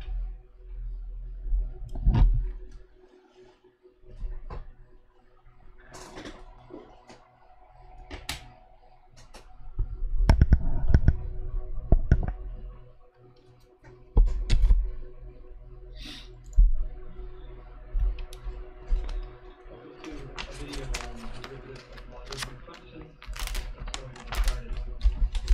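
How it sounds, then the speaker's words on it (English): Computer keyboard being unplugged and swapped for a drawing tablet at a study desk: scattered plastic clicks, knocks and rustles of handling come in bursts, close by, with brief quiet gaps and a denser patter of taps near the end. "switch this keyboard out real quick"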